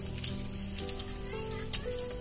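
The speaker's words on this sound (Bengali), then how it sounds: "তিনটে শুকনো লঙ্কা দিয়ে দিলাম ভেঙে।" Broken dried red chillies fry in oil left over from frying prawns, giving a soft, rain-like crackling patter with scattered tiny pops, quiet and steady.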